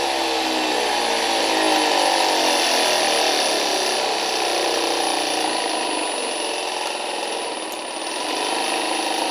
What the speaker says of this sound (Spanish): Ahí está el motor en directo